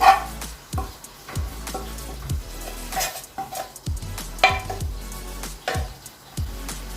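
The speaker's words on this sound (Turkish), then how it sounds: "Şöyle tekrardan karıştıralım." Spoon stirring a carrot tarator mixture in a bowl, a series of close, rhythmic scraping and clinking strokes at irregular intervals, with no one talking.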